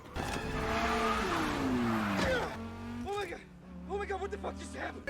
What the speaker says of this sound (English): This quickly results into a wild car chase in the streets of Chicago.